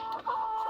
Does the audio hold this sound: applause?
no